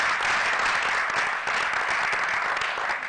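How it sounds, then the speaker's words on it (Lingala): Loud, sustained applause from a studio audience at a Congolese comedy show, dense clapping from many hands that carries on without a break, with a few faint voices mixed into the crowd. "M'applaudissez très fort pour ces jeunes."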